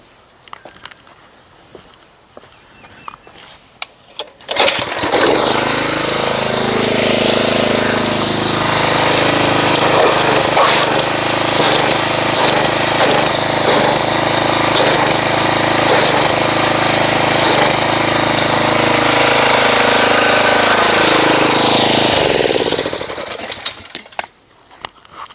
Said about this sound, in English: until we actually agitate it with a pressure washer